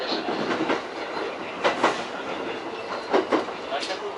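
A JR Narita Line train on the Abiko branch runs along the rails, with a steady rolling roar and short clickety-clack bursts as the wheels pass rail joints.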